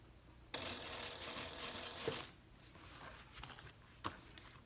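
A sewing machine runs in one steady, fairly quiet burst of about two seconds while top stitching a handbag's main panel through the seam allowance, followed by softer handling clicks and taps.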